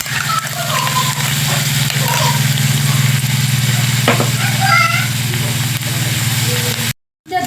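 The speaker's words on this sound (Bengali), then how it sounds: "এবার দিয়ে দেবো সর্ষে বাটা।" A paste of ground white mustard seed and chili hits hot oil for a dry cauliflower-stem dish, giving a loud, continuous close sizzle with faint stirring and a low hum beneath, cut off briefly near the end.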